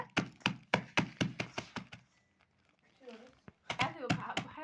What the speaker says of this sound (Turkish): İlk önce cevizlerimizi güzelce kırıyoruz